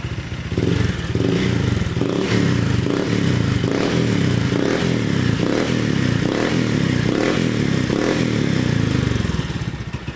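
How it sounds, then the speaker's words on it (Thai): A Honda PCX 160 scooter engine, reported to be burning oil, idling and revving lightly in steady repeated pulses, loud and close, with a rattly mechanical clatter throughout. "เดี๋ยวผมจะเร่งรอบเบาๆให้ดู"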